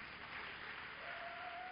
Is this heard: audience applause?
yes